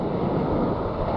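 Ocean surf with an incoming tide at Topanga beach, a broad steady wash of breaking waves with some wind rush, continuous and fairly loud with no voices.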